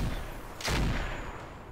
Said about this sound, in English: Okay, one autocannon hit.